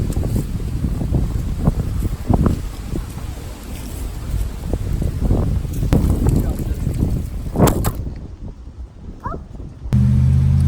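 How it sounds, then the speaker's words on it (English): Strong wind buffets the microphone outdoors during a Christmas light display setup, producing a loud, continuous low rumble with gusty bursts. It eases briefly before returning at full force. "It is the windiest day ever to do this stuff."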